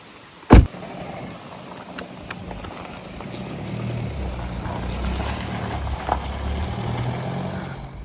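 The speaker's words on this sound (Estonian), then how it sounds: "Miia, kas lähme autosse ja hakkame sõitma?" A car drives along with a steady low road and engine rumble that builds slightly over time, with a sharp knock near the start and faint patter throughout; no talking.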